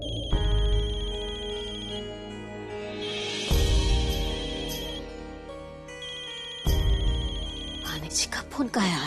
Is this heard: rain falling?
no